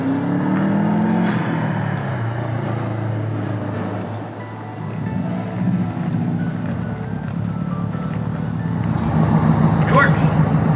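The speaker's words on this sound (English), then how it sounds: "Now for a quick test drive to make sure they work." A car's engine running on a test drive right after all four spark plugs were replaced, a steady low drone with some revving that lasts throughout while a person talks over it.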